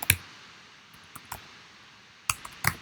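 Sparse, faint clicks of a computer keyboard as an email address is typed, a few isolated keystrokes then a close pair of taps in a quiet room.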